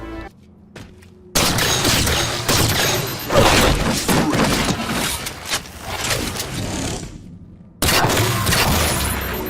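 The Promethean Light Rifle in Halo 4 fires rapid bursts, dense and loud energy shots crackling in quick succession with brief gaps, after a short quiet mechanical lead-in, then resuming sharply near the end.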